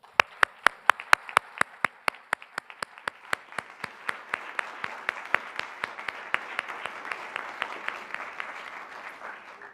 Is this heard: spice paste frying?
no